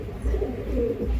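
Pigeons for sale coo in a low continuous burble, fairly close and steady for just over a second.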